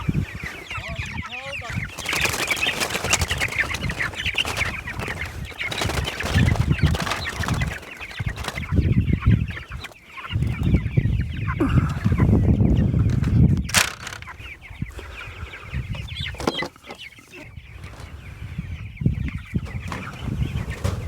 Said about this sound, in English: we've got all the chicks out putting their coops on pasture